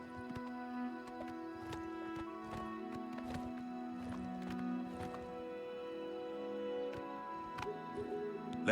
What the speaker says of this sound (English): Oh, finally horse riding.